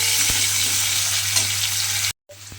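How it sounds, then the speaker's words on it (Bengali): Potato pieces sizzle loudly in hot oil with salt and turmeric, a dense continuous frying hiss close up with a low hum beneath, cut by a brief silence near the end. "এই নুন আর হলুদের গুঁড়োটা দিয়ে প্রথমে আলুটাকে খুব ভালোভাবে ভেজে নিতে হবে"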